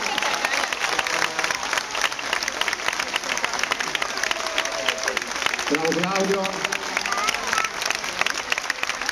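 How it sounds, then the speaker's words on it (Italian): A crowd applauds loudly and continuously at a flag ceremony for the Carabinieri, with dense clapping throughout and a voice calling out briefly partway through. "L'applauso un po' più alto però, ogni più forte, grazie."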